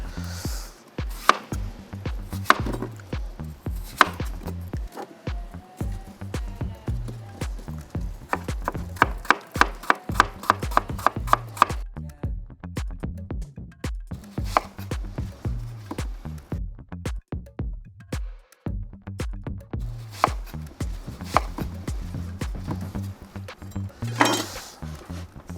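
A knife chops food into cubes on a cutting board, close, sharp, rhythmic strikes coming in quick runs separated by short pauses.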